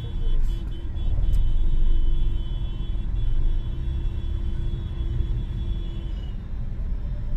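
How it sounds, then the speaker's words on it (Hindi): Busy road traffic with DTC city buses passing, a constant low engine rumble and drone of vehicles close by, swelling slightly as heavier buses go past, with no clear talk on top. "रोड भी क्रॉस करने का मौका नहीं दे रही है ये डीटीसी की बसें।"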